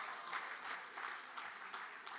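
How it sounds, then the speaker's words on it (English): Audience applause fills a gala dinner hall, a steady wash of clapping from many hands with small swells, continuing throughout without any voices rising above it. "Round of applause."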